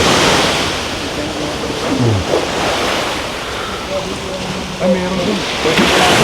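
Ocean waves at an abandoned resort in Cavite wash steadily with wind buffeting the microphone, and voices speak briefly over the surf.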